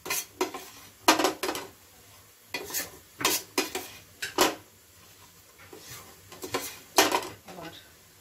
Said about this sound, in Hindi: और इसे लगातार चलाते रहेंगे आटे को